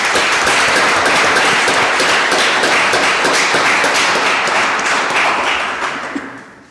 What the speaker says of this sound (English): Applause for Valentina.